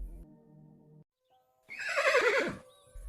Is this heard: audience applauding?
no